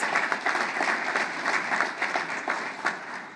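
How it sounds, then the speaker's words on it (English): An audience at the 2021 Charleston Commercial Market Forecast event applauds its statewide sponsors, a steady, moderately distant patter of many hands clapping at once without pause. "Let's give a big round of applause and thank you to all our statewide Tri-City sponsors"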